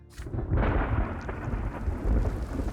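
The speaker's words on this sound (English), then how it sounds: "The sound of the rain and the gentle rustling of the silver tree calm you." Rain and thunder in the video game The Life and Suffering of Sir Brante: a low rolling thunder rumble swells under a steady patter of rain, fairly quiet and without voices.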